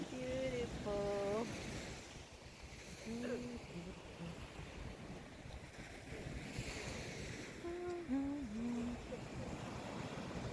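Ocean surf at Haeundae Beach in Busan rolls in as a faint, steady wash under wind noise, with brief voices and calls breaking through now and then.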